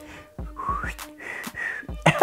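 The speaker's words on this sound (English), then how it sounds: "I can't whistle anymore." A person tries to whistle, producing short, breathy, wavering whistled tones with rising pitches, interrupted by faint clicks and puffs of air over about two seconds.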